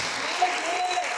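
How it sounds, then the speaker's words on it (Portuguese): A brief burst of dense clapping from a church congregation, heard as a short, even wash of applause with a faint voice tone riding over it. "aplaude o nome do Senhor, pode aplaudir"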